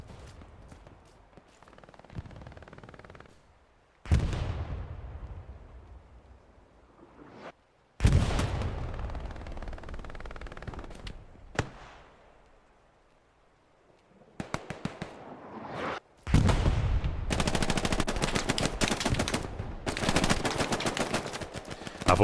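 Gunfire in the World War II video game Hell Let Loose during a competitive console match: sharp shots and rapid automatic bursts with echoing tails, loud and clustered, separated by quieter pauses.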